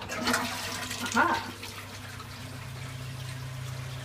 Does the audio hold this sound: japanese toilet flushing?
yes